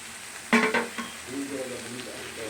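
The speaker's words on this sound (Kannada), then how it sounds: "ಅದನ್ನು ಹಾಕ್ಕೊತಾ ಇದ್ದೀನಿ. 1 ಕಟ್ ಮೆಂತ್ಯ ಸೊಪ್ಪು." Fenugreek leaves tossed into a hot pan hiss in a short burst, followed by a few scraping stirs and a low continuous sizzle.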